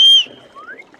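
A single short, high whistle from a person out in the Amazon rainforest, close and clear, followed by a faint rising whistle tone.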